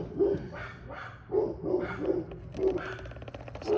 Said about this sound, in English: It's always drama with the dogs.